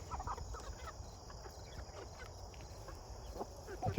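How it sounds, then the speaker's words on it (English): Dark Cornish meat chickens clucking in a low, continuous flock murmur close by, with scattered soft calls over steady background noise. "But they're good-sized chickens now."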